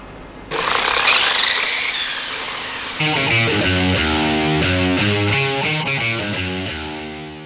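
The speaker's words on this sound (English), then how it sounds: "Here's the bike doing a wheelie." Upriser Ducati V4S Panigale RC stunt motorcycle running a wheelie, first a loud whining electric motor burst, then a buzzy, stepped motor tone rising and falling in rapid pulses, close and with no talk.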